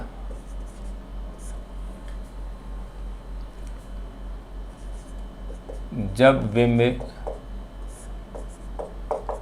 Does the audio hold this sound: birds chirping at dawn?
no